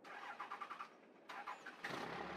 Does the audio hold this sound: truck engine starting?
yes